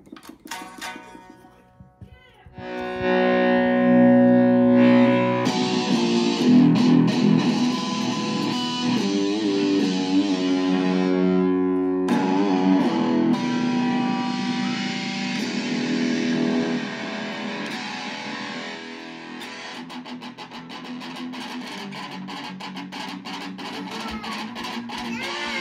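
Electric guitar played through a DOD FX69 Grunge distortion pedal and amp, loud sustained distorted chords and riffs starting after a brief quiet intro, with a short break midway before heavy playing resumes.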